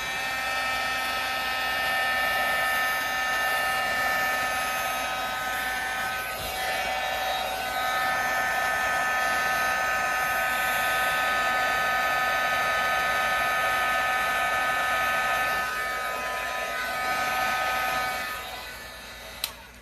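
A heat embossing gun blows hot air over embossing powder on a stamped surface, a steady close whooshing hiss with a whining motor tone that runs almost unbroken and cuts off near the end.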